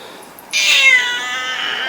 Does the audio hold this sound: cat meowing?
yes